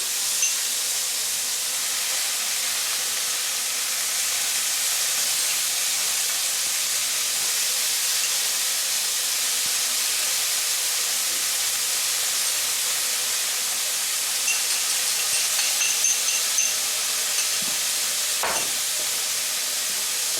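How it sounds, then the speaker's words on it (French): A spicy deglazing sauce hisses and sizzles steadily in a hot wok of stir-fried vegetables, a loud continuous bright hiss that holds throughout with a faint clink near the end. "petit à petit, je vais ajouter ma sauce à déglacer pimentée"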